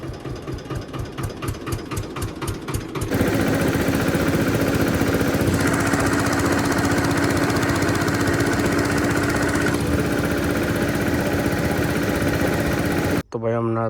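A tractor engine runs steadily and loudly at close range, after a brief lighter rhythmic chugging at the start, and keeps up a continuous throbbing drone until it cuts off near the end.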